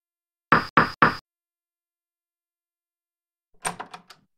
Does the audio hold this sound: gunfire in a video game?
no